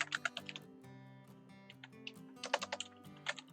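Quick bursts of keystrokes on a computer keyboard, fairly close and quiet, typed in short uneven clusters with brief pauses over a soft sustained tonal background.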